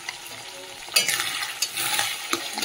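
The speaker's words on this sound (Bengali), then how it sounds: "তেলটাও এভাবে আর ভাজা ভাজা হবে" Katla fish fat frying in hot oil with salt and turmeric, a steady sizzle broken by louder crackling bursts and stirring scrapes, close and alone.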